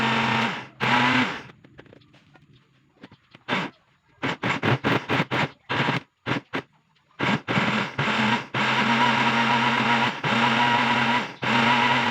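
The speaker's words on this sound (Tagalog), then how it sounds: "na-blender natin ang ating kakawati." Electric blender grinding madre cacao leaves with water, loud whirring bursts that start and stop in short pulses, then run in long sustained stretches, with quiet gaps and small clatter between.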